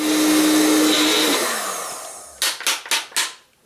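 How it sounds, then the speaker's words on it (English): A Magic Bullet blender runs loud and steady, chopping pepper and garlic, its motor winding down before four short, sharp pulse bursts in quick succession. "Magic bullet."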